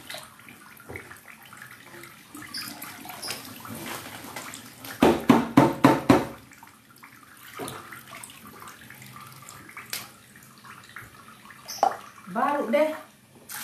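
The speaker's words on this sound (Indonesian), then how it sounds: "Pertama kita harus rebus air." Water is poured into a pot for boiling to make coffee, a splashing, gurgling stream with a burst of heavier pouring midway, while someone talks in the background.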